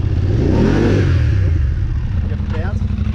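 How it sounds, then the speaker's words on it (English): A BMW engine revs and holds at high RPM, loud and close, with people talking over the steady roar. "hold the revs on"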